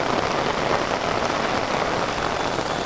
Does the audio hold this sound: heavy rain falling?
yes